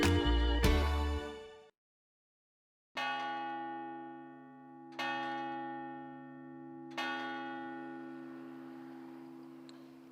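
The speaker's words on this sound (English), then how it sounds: "we're now standing at the Bell of Peace at the Garrow River" A large memorial bell, the Bell of Peace by the Garigliano river near the Monte Cassino battlefield, rings out in three slow, resonant strikes several seconds apart, each with a long humming decay, after an earlier clang and a brief silence.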